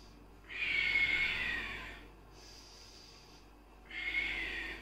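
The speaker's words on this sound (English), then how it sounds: "strong breath in." Forceful Kundalini yoga breaths during a spinal flex, two long loud airy inhalations with a quieter breath between, close to the listener and alone.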